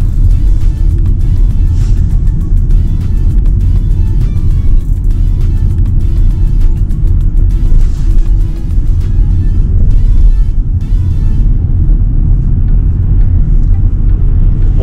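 A Polestar 2 electric car creeps along in slow London traffic, heard as a steady low rumble of road and tyre noise throughout with no engine revving and no talking.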